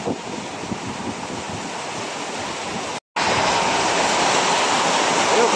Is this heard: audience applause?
no